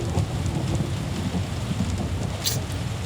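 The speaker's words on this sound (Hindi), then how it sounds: "एक था बादल की गरजना और बारिश के बूंदों की आवाज़।" Steady rain pours down with a low, rumbling roll of thunder underneath, continuous and fairly close throughout.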